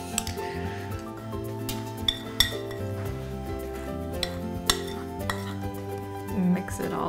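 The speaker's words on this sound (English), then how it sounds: "Mix it all together." A metal spoon stirring homemade kinetic sand mixed with liquid soap in a bowl, producing scattered clinks and scrapes against the container over soft background music, close and fairly quiet.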